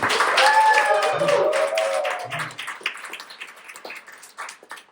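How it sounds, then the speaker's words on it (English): A small stand-up comedy class graduation showcase audience claps and cheers, the loud burst thinning into scattered, fading claps over a few seconds, with whoops and voices mixed in at the start. "A round of applause"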